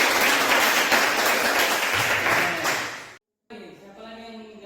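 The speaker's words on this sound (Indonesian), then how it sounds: "Berikan tepuk tangan dulu." Applause from a class of students in a classroom, a dense burst of clapping that stops abruptly and gives way to a voice speaking.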